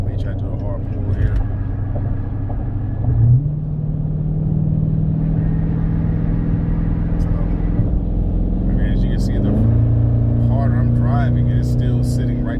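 A Dodge Charger fitted with a 180° thermostat pulls hard from a highway cruise, its engine drone rising in steps as it accelerates. The engine noise is loud and continuous, and someone talks over it.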